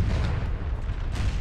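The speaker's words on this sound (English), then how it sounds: "Oh, there's just explosions everywhere." Artillery canister fire and explosions in Napoleon: Total War, a dense, continuous low rumble of booms and blasts with no clear gaps and no talking over it.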